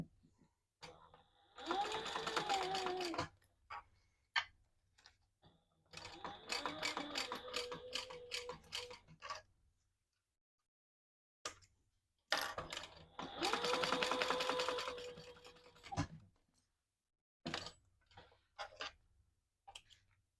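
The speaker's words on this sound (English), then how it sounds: "sew that together at the seam allowance in the pattern" Sewing machine stitching the lining seam of a crossbody bag, close rapid mechanical whirring in several bursts of a few seconds each, broken by silences and scattered clicks, no talk.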